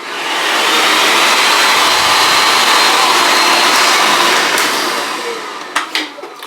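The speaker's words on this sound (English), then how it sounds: "That, I think, is a hairdryer." A hotel hair dryer blows with a loud, steady whooshing roar up close for several seconds, then winds down and clicks off.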